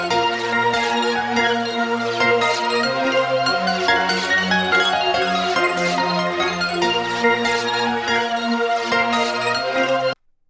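A Portal 'Tron' synth pad in FL Studio, sustained and shimmering, plays within a beat with periodic bright hits, loud and unbroken before stopping suddenly.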